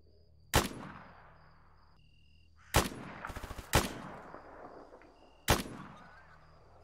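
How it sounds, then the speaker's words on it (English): Scattered gunshots in S.T.A.L.K.E.R. Anomaly gameplay, four sharp single cracks with echoing tails spread over several seconds, plus a quick rattling burst of rapid fire in the middle, moderately distant. "Oh, they're shooting at me too."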